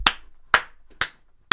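Four sharp hand claps spaced evenly about half a second apart, close and crisp with a slightly hollow ring, with no talking.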